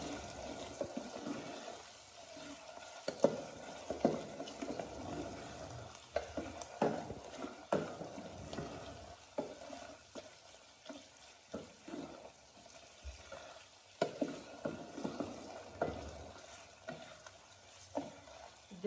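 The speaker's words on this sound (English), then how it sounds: "I'll just go ahead and add in salt. And give it a stir." Beef pilau stirred in a pot after salt goes in, giving scraping, sloshing stir strokes that repeat irregularly at moderate volume with a faint sizzle underneath and no talking.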